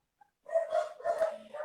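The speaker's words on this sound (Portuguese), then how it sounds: "eu tô quase gritando com esses cachorros" Dogs barking close by, a quick burst of several loud overlapping barks after a brief quiet start, with no talking.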